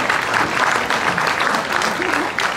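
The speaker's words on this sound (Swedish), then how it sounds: "Ge först Eva en applåd" A crowd at a building opening ceremony claps in sustained, even applause, loud and dense, with no break.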